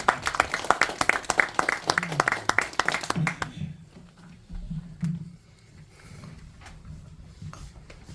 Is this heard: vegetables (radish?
no